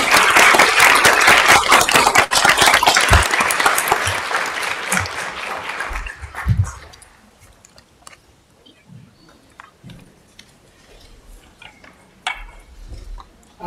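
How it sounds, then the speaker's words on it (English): Audience applause for a panel at a health risk reduction summit, loud and sustained clapping from a full room for about six seconds, then fading into scattered claps and quiet room noise. "let's give them a round of applause."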